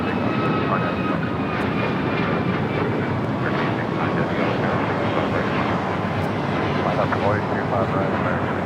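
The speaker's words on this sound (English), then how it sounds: "Got that United flight heading to Tampa. Now rotating off of 25 right." A United airliner bound for Tampa takes off from runway 25 right at LAX, its engines giving a steady, loud broadband roar that holds throughout, with voices talking over it.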